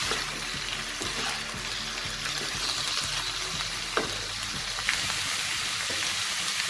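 Mixed vegetables for Bengali labra cook in a pan, giving a soft, steady sizzle with periodic spatula scrapes and light knocks as they are stirred, fairly quiet and without voices.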